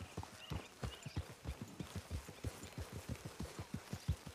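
Horse hooves in the video game Red Dead Redemption 2, a steady rhythmic clip-clop of walking footfalls, evenly paced and moderately close, continuing throughout with no speech.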